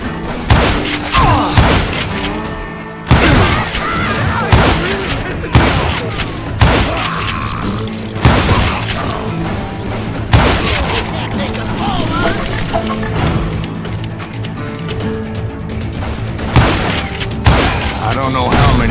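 Gunfire rings out in the Western video game Call of Juarez: repeated loud shots and heavy thuds at irregular intervals over dense layered game sound, close and punchy throughout.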